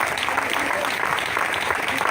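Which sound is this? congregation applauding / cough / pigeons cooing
congregation applauding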